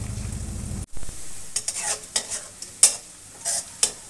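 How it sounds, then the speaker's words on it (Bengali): Onion frying over a high flame in oil until lightly browned: a short burst of sizzling gives way to a series of sharp spatula scrapes and stirring clinks against the pan, close and unaccompanied by speech. "পেঁয়াজটাকে একটু কড়া করে ভেজে নেব, মানে একটু হালকা বেরেস্তার মতো করে"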